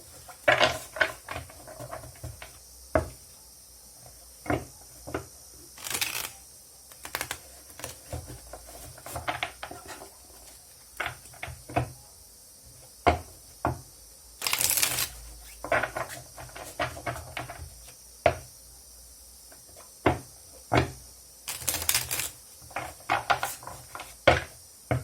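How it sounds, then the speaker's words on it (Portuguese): A large tarot deck being shuffled by hand on a table, soft papery riffles and sharp card taps arriving in irregular bursts, close and fairly quiet against a still room. "Ele já está embaralhado, mas nós vamos embaralhar ainda mais um pouquinho."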